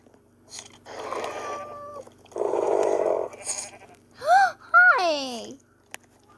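Sheep bleat in a video game, a few wavering, nasal cries rising and falling near the end after softer breathy sounds, mostly alone with little else around.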